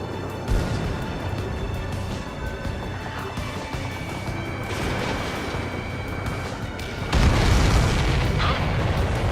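Heavy booming explosions from missiles striking targets in the Ace Combat 7 flight combat game, a continuous dense rumble with a sharper, louder blast near the end.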